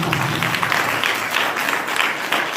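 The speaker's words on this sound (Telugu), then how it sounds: "గట్టిగా చప్పట్లు కొట్టి యెహోవా నామమున" A church congregation claps loudly together, a dense, continuous roar of many hands with faint rhythmic pulses, filling the whole moment.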